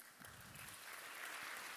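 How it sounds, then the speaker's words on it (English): A church congregation breaks into applause as a show of respect, a steady, soft wash of clapping from many hands that swells slightly toward the end, heard from a distance. "can we give a round of applause"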